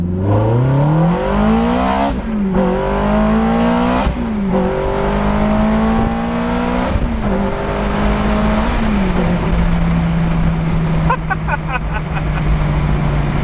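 A Ferrari fitted with a gated manual conversion revs through the gears, loud and close, its engine note climbing and dropping over several shifts with sharp gaps between them, ending in a steady lower drone.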